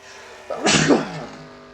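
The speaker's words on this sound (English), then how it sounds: "I'm gonna sneeze." One loud, close sneeze erupts abruptly, a breathy burst that fades quickly against a low background hum.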